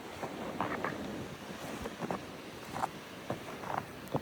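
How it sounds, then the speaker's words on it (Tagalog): Strong wind during a snowstorm in Manitoba, with a rough, gusty roar battering the microphone and brief louder buffets rising and falling. "Sobrang lakas ng hangin."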